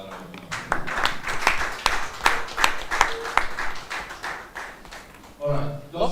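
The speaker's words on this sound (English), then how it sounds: "can we give the rector another round of applause?" Audience applause and clapping for the rector at an international press conference fills the room, with claps peaking in bursts, and speech running throughout alongside it.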